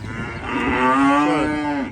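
A single long, loud moo from cattle heading out onto a freshly cut field on a cold June day, rising and falling close by with no other sounds.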